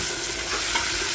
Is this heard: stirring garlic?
yes